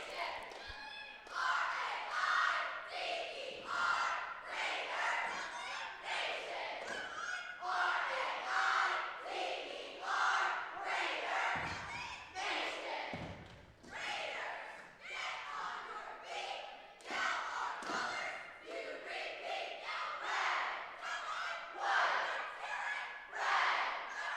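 The BHS Raiders high school cheerleading squad opens its routine at a district championship, with many voices shouting a rhythmic cheer in unison, punctuated by thumps and claps, in an echoing arena.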